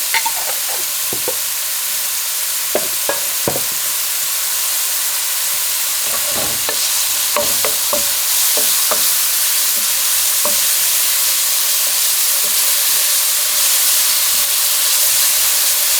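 Diced onion sizzles in hot oil in a pan while being seasoned and stirred for chicken tacos dorados, a steady loud frying hiss broken by scraping stirs and clinks, with no talk.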